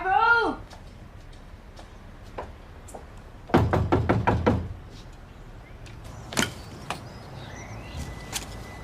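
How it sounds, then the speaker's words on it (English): Someone bangs on a front door in a rapid burst of heavy knocks, followed by a few scattered single thumps, close and loud, with voices calling out around them. "did you not hear me banging on the front door?"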